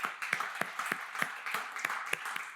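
Scattered clapping from a church congregation, a quiet, uneven patter of hands with sharper individual claps about every third of a second, and no talking on top.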